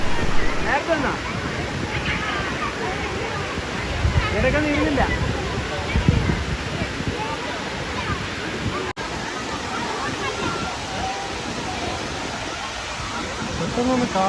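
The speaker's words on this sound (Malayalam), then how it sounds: "വളരെ ഹൈറ്റിൽ നിന്നാണ് ആ വെള്ളം വീഴുന്നത്" Vazhvanthol waterfall crashes down from a great height in rain-soaked forest, a steady loud roar of falling water filling the whole stretch with little variation.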